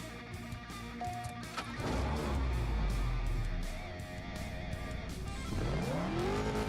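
Race car engine in the CSR2 racing video game revving loudly and steadily, with a tire-squeal-like chirp early on and rising pitch sweeps of acceleration near the end, no talk.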